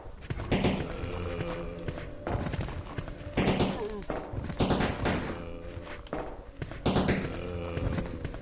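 Resident Evil 2 gunshots, loud booming shots landing in three or four spaced bursts amid thuds and game effects, with a player talking over the action.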